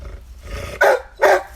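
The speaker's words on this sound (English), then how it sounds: "Sorry about the dog. It's barking at the cat." A dog barking at a cat outdoors: two loud, close, gruff barks about half a second apart, preceded by a low growl-like rumble.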